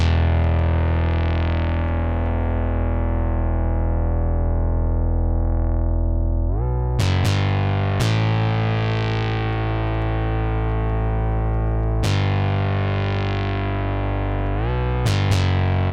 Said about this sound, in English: So first one I added is this bass.